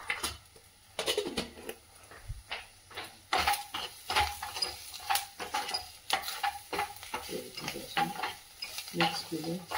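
Chicken frying and sizzling on a tawa as it is stirred, with repeated sharp scraping and clinking strokes of the spatula over a steady crackle, close and fairly loud, with no talking.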